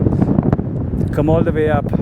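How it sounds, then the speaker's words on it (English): Strong wind buffeting the microphone on a mountain trekking trail near Namche Bazaar on the Everest Base Camp route, a steady loud rumble with people talking over it. "Oh, it's too strong wind."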